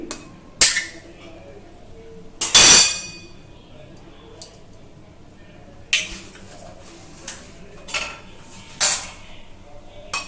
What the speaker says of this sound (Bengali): এবার আমি এতে দিয়ে দেব 3টে ডিম।